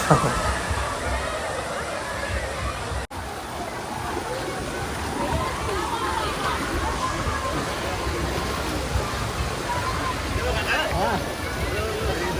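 Roughly 1–200 litres of water dump all at once from an overhead tank at a water park, a steady broadband rush and slosh that carries on for the whole span, with crowd babble mixed in.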